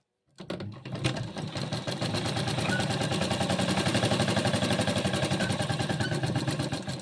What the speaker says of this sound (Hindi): फिर से हम आपको सिलाई करके दिखा देते हैं।